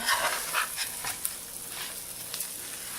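Rice turning and browning in a hot pan, a quiet, steady sizzle with soft scraping strokes of stirring scattered through the clip, no talk.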